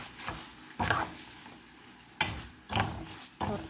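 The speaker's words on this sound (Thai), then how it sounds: "ทอดข้าวแห้ง ทอดข้าวแห้งทุกท่าน" Dried rice (khao khop) frying and being stirred in a pan in Lao home cooking, with intermittent bursts of crackling sizzle and scraping stirs between quieter stretches, close by.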